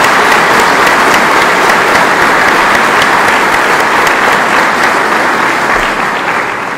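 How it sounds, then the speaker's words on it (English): Loud, dense applause from a large audience at a military wing change of command ceremony, a continuous roar of clapping that holds steady and eases slightly near the end. "So let's give him a round of applause."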